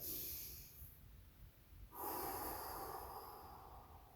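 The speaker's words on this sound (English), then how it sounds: "just breathe into it and relax. 5 big deep breaths." Slow deep breathing during a neck and upper-trap stretch in a post-workout recovery routine, a long inhale then a fuller airy exhale close to the mic, steady and unhurried with no talking.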